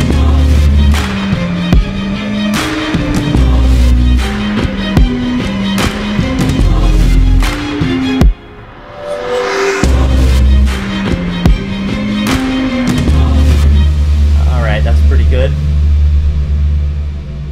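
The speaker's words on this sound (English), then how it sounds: "This is a trailer track, if you're wondering what that noise was." A dense, loud orchestral trailer music track played back in FL Studio, with heavy booming low hits, pounding rhythmic percussion and a rising swell midway, continuing without any voice.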